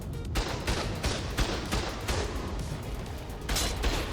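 A tech turret in a sea cave below opens fire in a video game, a loud burst of repeated gunshots in an uneven rhythm, with several sharp cracks that come and go over a steady background rumble.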